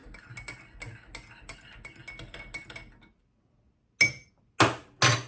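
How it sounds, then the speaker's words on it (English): A spoon clinks against a pot while stirring Somali qaxwo coffee with milk: a run of light, quick taps and ticks, a brief pause, then three sharp, ringing metallic knocks close by. "Okay, and it's time to stir it."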